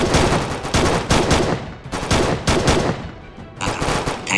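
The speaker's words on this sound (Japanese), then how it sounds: "よし、前線一斉射撃じゃ。" Massed volleys of matchlock guns fire from ships in a sixteenth-century Japanese naval battle, a dense run of loud overlapping cracks in repeated bursts with no pauses between them.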